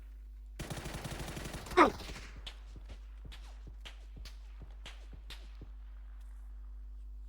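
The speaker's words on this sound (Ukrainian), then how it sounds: "Стріляє, не бачу, звідки він стріляє." A burst of rapid gunfire opens, then a string of sharp single shots follows at irregular intervals, crisp and close against a quiet background hum, in the video game PUBG.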